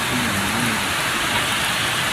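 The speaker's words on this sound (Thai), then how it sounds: "ครับก็ฝนตกเรียบร้อยแล้วครับ" Heavy rain falls steadily after several hot, windy days, a loud, continuous hiss of drops on surfaces with water running, no speech, constant from start to finish.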